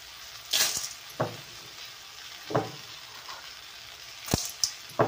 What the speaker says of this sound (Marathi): सांडगे छान मस्त खरपूस भाजून घ्यायचं